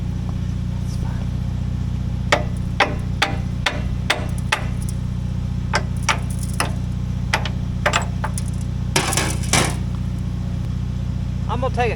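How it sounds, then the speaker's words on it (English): Hammer blows on a steel wedge set in a backhoe frame, a series of sharp metallic strikes in irregular succession, some in quick clusters, over a constant low hum. "take the hammer and give it one good shove that way and take that wedge out"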